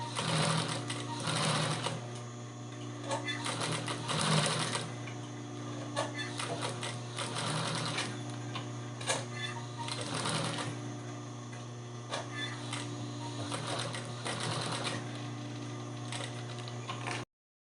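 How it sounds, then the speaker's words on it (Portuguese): Domestic sewing machine stitching piping around the curved corner of a toiletry bag, a steady close mechanical whirr and rapid needle chatter running almost continuously, with brief slowdowns and restarts. "Abaixa a agulha, levanta o calcador e vai fazendo a curvinha com cuidado."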